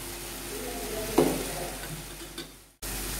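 Onions and tomatoes sizzle softly in a pan while being sautéed for a hotel-style poori potato masala, with one clear scrape of a spoon stirring them partway through, then a sudden cut to quiet.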